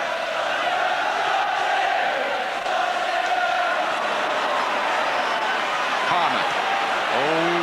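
Notts County football supporters chant and cheer as a steady, dense crowd roar filling a stadium at an FA Cup quarter final against Tottenham, loud and continuous throughout, with a whistle-like rising tone near the end.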